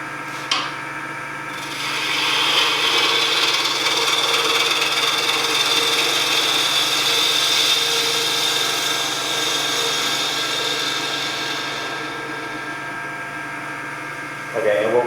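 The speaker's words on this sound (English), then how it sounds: "I'm still going to just use a bowl gouge on it because it's still a gouge" A bowl gouge cuts spindle-oriented wood on a lathe at a woodturning club demonstration, giving a steady, sustained rubbing, scraping hiss for about ten seconds that starts and stops cleanly, loud and close.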